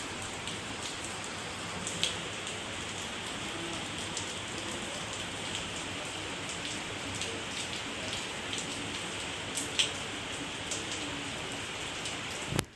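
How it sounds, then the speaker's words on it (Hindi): Heavy rain falling steadily, a dense even hiss of drops on surfaces with occasional louder nearby splats, continuous and alone for the whole stretch. "फाइनली अब जो है तेज़ बारिश शुरू हो गई है।"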